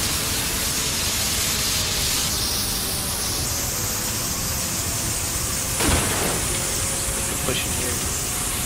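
A powerful, continuous hiss of water spraying from a hose, steady and loud throughout with a brief thud partway through.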